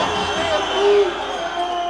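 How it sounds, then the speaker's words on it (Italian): A stadium crowd at the Acireale vs Siracusa football match whistles at a substituted player. Scattered shrill whistles rise over a broad roar, with a commentator talking throughout. "fischi dal tutto il Tupparello che viene giù letteralmente dai fischi"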